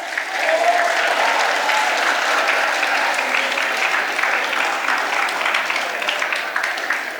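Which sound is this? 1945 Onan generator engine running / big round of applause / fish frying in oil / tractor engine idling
big round of applause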